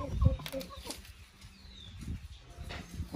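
Large, heavy chickens at a market flap their wings and cluck, with a burst of wingbeats near the start followed by scattered softer clucks and rustling in a busy outdoor setting.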